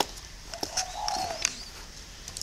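Young spotted dove giving soft, brief coos with a few chirpy notes, close and fairly quiet over light background noise.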